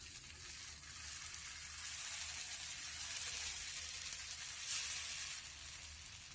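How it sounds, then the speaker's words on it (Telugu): Red chili dosa batter spread on a hot pan sizzles with a bright, hissing crackle that swells after a couple of seconds and stays steady and close, with no one speaking. "సో ఇప్పుడు మనం ఎర్రకారం దోశ పోస్తున్నాం."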